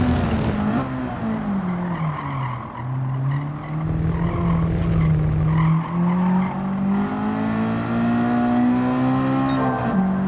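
A Honda Civic SiR laps Tsukuba Circuit in the racing game Gran Turismo 7, its engine droning loudly and rising and falling through gear changes, with tire squeal as it corners.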